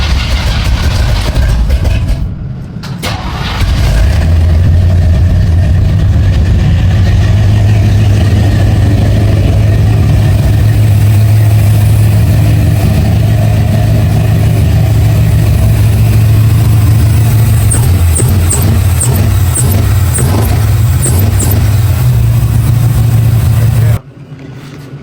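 A Squarebody Chevy truck engine fitted with BigStuff EFI cranks and fires, then settles into a loud, steady, rumbling idle close by for about twenty seconds before cutting off abruptly.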